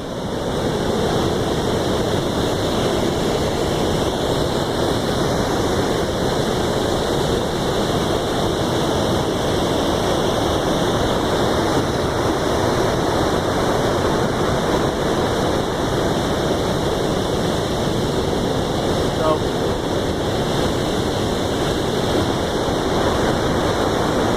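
Water rushes steadily over a 2 to 3 metre high canal feeder weir, a constant loud roaring wash with no breaks and no voices.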